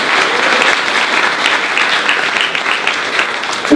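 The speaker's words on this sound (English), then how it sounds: "Please give Natalie a round of applause." A crowd at a panel discussion for an incubator launch event claps for a panelist being introduced, a full, continuous round of applause with no voices on top.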